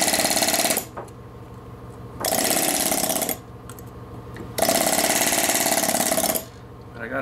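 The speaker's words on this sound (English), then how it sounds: "I'm gonna maybe just get my little gun and just maybe chisel a bit out." A small power chisel gun hammers in loud, rapid bursts, chipping fibrous material out of a 2 inch Milwaukee hole saw, with three sustained runs separated by brief pauses.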